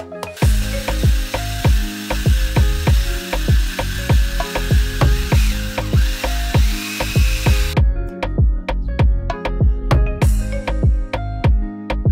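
Power drill boring holes into a plastic barrel for outhouse plumbing, a loud, close, rapid rhythmic chatter throughout with a sharp high whine that cuts off partway, followed by continued knocking pulses.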